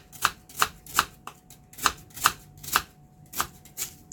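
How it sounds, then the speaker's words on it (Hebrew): An onion being sliced carefully with a knife on a cutting board, about ten crisp, evenly paced chops in a steady rhythm, close and clear with no talking. "אז כך בזהירות לחתוך את הבצל"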